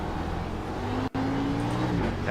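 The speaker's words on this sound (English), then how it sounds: "Engine doesn't seem to be hurt. It doesn't sound too bad." A NASCAR Class A race car engine in the iRacing sim at Sonoma drones steadily at high revs, loud and continuous with a sustained tonal whine and a brief gap in the middle.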